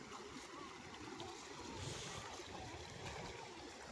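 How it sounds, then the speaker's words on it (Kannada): Water flowing in a small stream near a waterfall, a steady broadband rushing and babbling wash heard outdoors at moderate distance, continuous throughout with no clear speech. "ಹಿಂಗೆ ನೀರು ಹರಿತಾವ."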